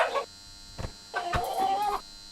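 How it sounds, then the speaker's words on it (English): Chicken clucks come from a video game, with short cackling bursts at the start and a longer run of rapid clucking in the second half, clear and close against a faint electronic hum. "You can obviously pick up the chicken as well."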